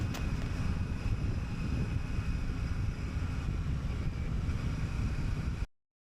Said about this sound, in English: my helmet seems to take a battering of wind coming up from the screen